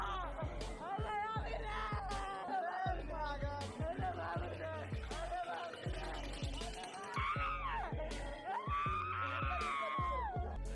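A woman screams and wails on a big swing ride at a village fair, rising cries over loud rhythmic music and crowd noise, with other voices mixed in.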